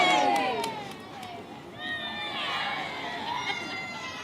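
Crowd cheering and shouting after a countdown at a Derby County U21s versus Chelsea U21s football match, a sustained wash of voices with children's shouts rising and falling throughout, loud and close.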